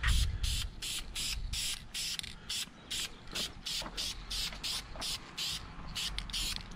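Repeated short bursts of aerosol spray paint hiss as a light coat goes onto an F150 tow hook on a supercharged Ford, a rhythmic series of about a dozen quick pulses, close and fairly quiet.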